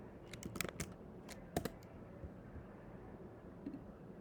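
Quiet typing on a computer keyboard, a short burst of light clicks followed by a few more isolated keystrokes, then a soft lull, faint against a low room hiss.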